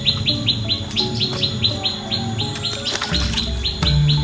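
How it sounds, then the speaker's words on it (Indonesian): Birds chirp steadily in a quick repeating pattern in a forest in Central Java, Indonesia, several calls overlapping at close range, with a faint low hum underneath. "Suara burung-burung menjadikan atau menambah suasana semakin tampak asri ya."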